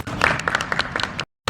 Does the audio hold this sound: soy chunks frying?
no